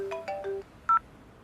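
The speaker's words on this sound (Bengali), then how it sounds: "আমায় ফোন করছে কেন" A phone ringtone for an incoming call plays a short melodic run of beeping tones, then one more brief tone after a pause, clear and close in a quiet room; no one speaks.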